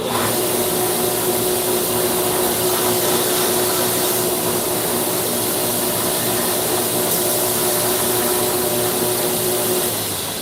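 A 2x72 belt grinder whirs steadily and loudly at close range, a constant high-pitched machine drone with no pauses or voices.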